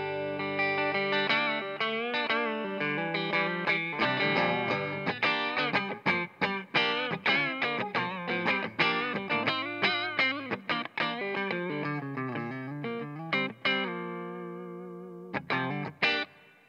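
Electric guitar played clean through a Marshall Slash SL5 combo amp on its clean channel with reverb, a steady run of strummed chords and picked notes with a short pause near the end, close and alone.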